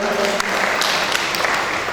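Scattered audience clapping during a Jain monks' morning aarti and devotional gathering, a continuous patter of many hands with faint voices mixed in.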